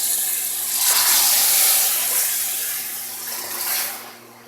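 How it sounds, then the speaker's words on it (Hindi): A cup of water is poured into a pan of potato egg curry, a steady close splashing hiss that runs for a few seconds and then tapers off. "एक कप पानी का डालूँगी।"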